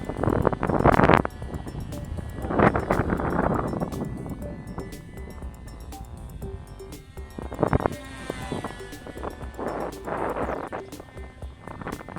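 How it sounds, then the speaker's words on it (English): Gusty outdoor wind buffets the microphone in loud, close bursts, with a steady low rumble between gusts and no other clear sound. "Windy."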